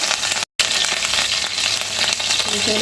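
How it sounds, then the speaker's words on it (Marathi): Curry leaves hit hot oil, giving a loud continuous hiss and crackle close by, broken once by a brief gap of silence. "आपण ह्याच्यामध्ये तेल टाकूयात आपण थोडासा कढीपत्ता टाकूया"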